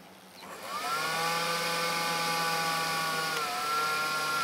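A battery-powered bug vacuum runs with a steady, strained motor whine as it sucks up hornets, its battery nearly dead; the pitch sags and wavers toward the end.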